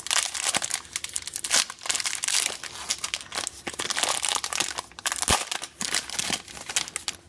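A 2016 baseball card jumbo pack wrapper being torn open and crinkled, continuous close, loud plastic crackling and crumpling with sharp tearing bursts and no talk.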